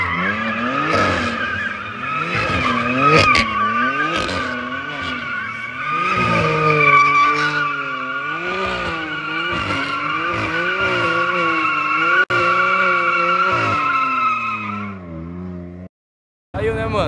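BMW M4 spinning drift donuts, with a loud, continuous tire squeal and skid that rise and fall in pitch as the car circles, over a revving engine, before cutting off near the end.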